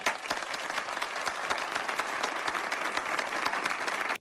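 Loud, steady applause from a large audience, dense clapping that fills the whole stretch and then cuts off abruptly.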